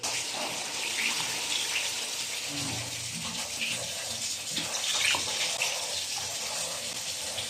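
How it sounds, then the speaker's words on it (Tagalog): Broth gushes and splashes steadily into a pot of beef sinigang, a continuous watery pour at moderate loudness with small clinks, and a voice murmurs briefly beneath it. "Lalagyan na natin siya ng sabaw."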